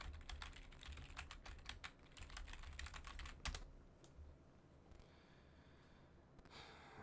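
Computer keyboard typing in rapid bursts of clicking keys, close and fairly loud over a steady background hum, easing into quieter, sparser taps toward the end.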